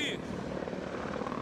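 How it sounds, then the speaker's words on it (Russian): Military aircraft, identified as Russian army, fly overhead during a war attack, producing a loud, steady roaring drone that fills the short moment without letup. "Военные самолеты, непонятно, украинские или нет."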